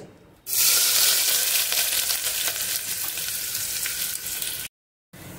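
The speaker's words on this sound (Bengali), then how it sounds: "এবার দিয়ে দেবো পেঁয়াজ কুচিটা।" Chopped onions hit hot mustard oil with fried cumin seeds, setting off a loud, dense, steady sizzle close by that starts suddenly and continues until a brief cut near the end.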